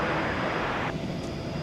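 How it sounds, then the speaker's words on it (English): An Airbus A321 airliner on arrival at DFW airport gives a loud, steady broadband engine roar, close and sustained, with no talking. "It's flight 2381, Airbus A321."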